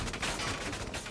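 Machine gun fire in the tactical war game Valkyria Chronicles 4: a dense, loud burst of rapid shots with no break over about a second.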